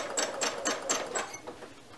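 A sewing machine runs in short rapid bursts while free motion quilting a small triangle pattern. The stitching chatter is steady and close, then eases off near the end.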